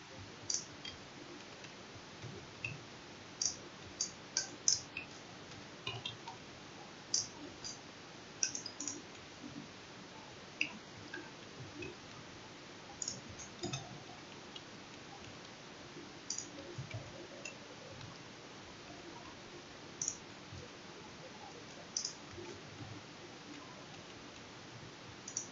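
Code typed on a computer keyboard in a quiet room: faint, irregular clicking keystrokes in short clusters over a low background hiss, with no voices.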